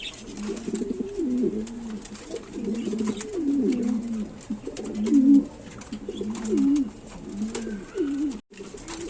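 Lahori running pigeons cooing close by, a series of soft, throaty rolling coos repeating every second or two over a faint hum of background noise.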